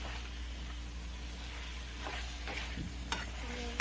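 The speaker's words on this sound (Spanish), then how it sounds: "Ahorita con el ajo le vamos a batir poquito para que todo el pollo agarre el sabor" Chicken and garlic frying in a pan are stirred, giving a soft sizzle under faint scraping strokes, with a few brief clinks near the end against a low steady background hum.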